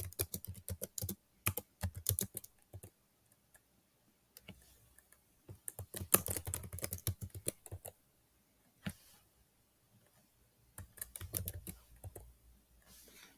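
Computer keyboard typing in quick bursts of clicky keystrokes, broken by short pauses, close and fairly quiet with no voices.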